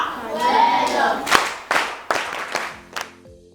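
Students in a classroom give a short round of clapping over a murmur of young voices, then a few distinct sharp claps fade out toward the end.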